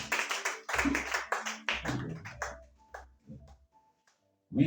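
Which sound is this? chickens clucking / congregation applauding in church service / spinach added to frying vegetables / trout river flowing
congregation applauding in church service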